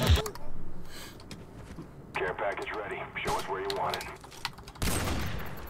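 Custom sniper rifles, including a COD 4 Barrett, fire in Black Ops 1 as a few sharp, loud shots, one at the start and others later, with busy game sounds in between.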